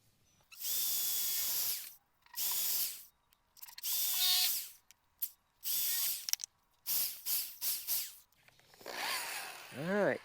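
Power drill boring holes into the lower unit of a 2007 Mercury 225 Optimax outboard motor, in several loud bursts of whining drilling separated by short pauses, with a squealing tone near the end.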